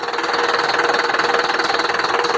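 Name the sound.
air conditioner switching on, motor running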